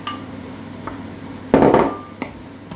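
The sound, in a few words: aubergine flesh added to softened vegetables in a pan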